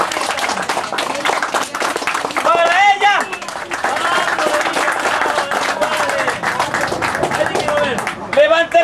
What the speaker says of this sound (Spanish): ¡Para ella, aplauso!